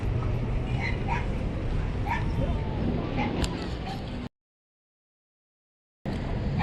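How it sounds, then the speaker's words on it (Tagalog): Several dogs barking and yipping in a residential neighborhood of mixed wood and concrete houses, short repeated barks scattered over steady outdoor background noise, with a gap of silence before the sound resumes. "mga aso"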